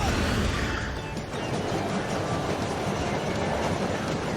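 A cartoon train races along at top speed, its steady rolling rumble and rail clatter loud and continuous throughout.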